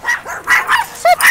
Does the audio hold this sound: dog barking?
yes